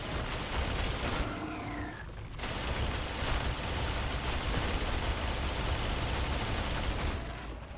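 Sustained, dense gunfire from a gun in the space game Starfield, rapid overlapping shots and booms forming a continuous loud barrage with brief dips, no talking.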